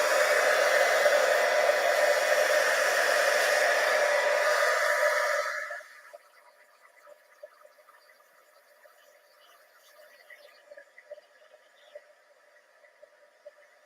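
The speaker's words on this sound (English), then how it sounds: "pull out the" A heat gun blows hot air with a loud, steady rushing hiss for several seconds, then cuts off, leaving faint background sounds and small clicks.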